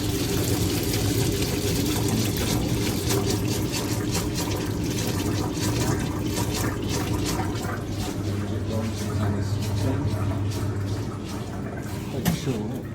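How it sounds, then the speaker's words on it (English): Used oil drains from a pan down into a sump, a continuous close rushing, trickling pour with a steady low hum underneath, holding at an even level throughout. "It's draining down nicely."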